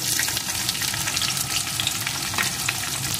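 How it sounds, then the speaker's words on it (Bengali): Chopped onion sizzles in hot oil with whole spices, a steady dense frying hiss with soft bubbling and occasional stirring, close and continuous. "পেঁয়াজ কুচিটাও একটু ভেজে নেব"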